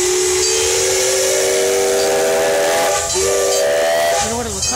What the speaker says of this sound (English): Will it be all the steam coming out?